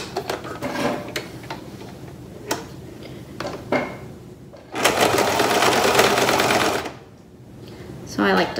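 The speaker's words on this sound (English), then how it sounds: "I keep sewing all the way to the end, and I back stitch at the end" A sewing machine stitches folded fabric for a handmade mask in short bursts of rapid whirring, then a longer continuous run, with quiet clicks and handling noises between the runs.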